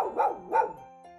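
Dog giving two quick, close barks in a row, followed by a short quiet tail over soft background music.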